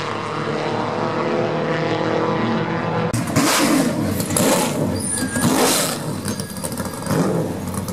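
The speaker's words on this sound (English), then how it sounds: "gentlemen, this is the Porsche GT1." A Porsche GT1 race car engine roars past at speed, a steady loud mechanical drone that brightens and intensifies sharply partway through as the car draws nearer, with no voices.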